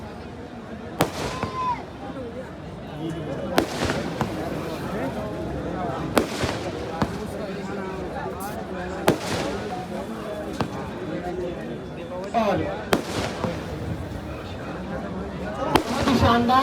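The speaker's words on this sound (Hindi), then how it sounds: "मोहम्मद आजम की ये आतिशबाजी जारी है" Fireworks at the Dewa mela fair in a competitive display by Mohammed Azam: repeated sharp bangs and crackling bursts at irregular intervals, with a commentator talking over them.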